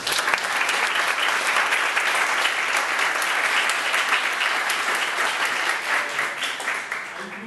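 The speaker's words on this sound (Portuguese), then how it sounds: "Por favor, ela merece palmas, né?" An audience at a talk on promoting reading through a community library claps in sustained, dense applause, loud and even before it begins to thin toward the end.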